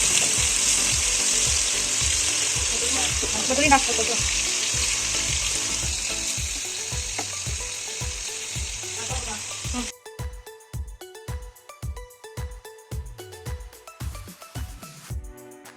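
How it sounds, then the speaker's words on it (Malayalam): Chicken pieces fry fast in a pan with a loud, continuous sizzle for about ten seconds, then the sound gives way to a rhythmic series of clicks and taps, with a faint voice briefly audible. "ഞാനിതാ ചിക്കൻ പൊരിക്കുന്നുണ്ട് ചിക്കനെല്ലാം സ്പീഡ് പൊരിക്കുകയാണ്"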